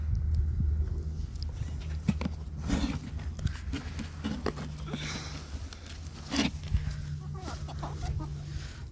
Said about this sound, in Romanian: Aceștia sunt cocoșei, mi-am luat 2.